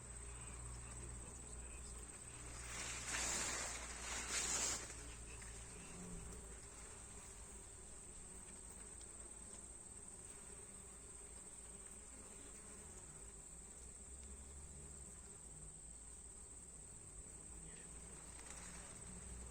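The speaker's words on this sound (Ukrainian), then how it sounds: "Бджоли прямо роєм, роєм." Many bees swarm around a flowering Sakhalin knotweed plant, humming in a continuous, faint buzzing drone, with a brief louder swell of nearby wings early on.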